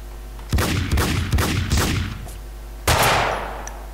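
Gunfire in the video game Max Payne 2: a rapid series of loud, punchy shots in an uneven rhythm, five or so blasts followed by a pause and a final heavy report, with no talking.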